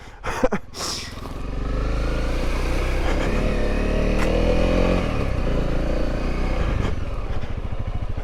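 A Honda CRF250L dirt bike riding through hilly terrain, its single-cylinder engine droning loud and steady for several seconds after a brief clatter, close to the rider.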